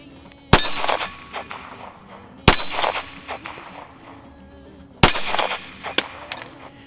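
Three loud, sharp 9mm gunshots fired with Shell Shock cases, evenly spaced about two seconds apart, each a close crack followed by ringing metallic clatter and echoing decay.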